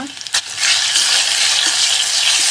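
Curry leaves tossed into hot coconut oil with mustard seeds, fenugreek and chilli burst into a loud, continuous frying hiss after a brief initial clatter, sustained and close for the rest of the moment.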